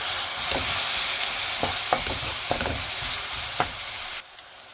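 Ground turmeric, chili, coriander, cumin and garam masala frying in a pan for a cow brain dish, a steady close sizzle broken by several scraping stirs before it cuts off abruptly.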